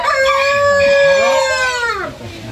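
Wyandotte hens give a long, drawn-out fowl call lasting about two seconds that rises and then slides down at the end. It is close and fairly loud, with no talking over it.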